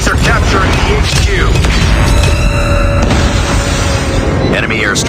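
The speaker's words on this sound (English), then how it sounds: "Friendly airstrike incoming." Airstrike explosions in a Call of Duty Mobile headquarters match: a steady, loud wash of booming blasts and rumbling impacts, with a game announcer's voice and other battle noise layered on top.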